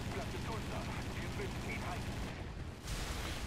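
Dense, continuous rattling gunfire pounds a plane in War Thunder, a loud rumbling burst of impacts and engine roar that briefly drops out near the end before resuming.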